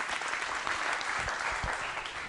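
A school audience at a quiz show applauds the winners, a dense, steady wash of many hands clapping throughout, fairly close and without pause.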